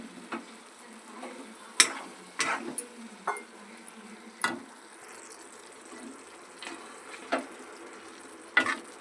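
A spatula scrapes and clacks in a pan while amaranth leaf fry is stirred, with sharp irregular knocks over a soft, faint sizzle.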